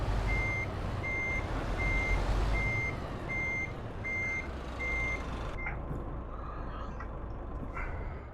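A truck in the Euro Truck Simulator 2 game gives out evenly spaced reversing beeps over a low engine rumble. The beeping stops partway through, and the engine keeps running after it.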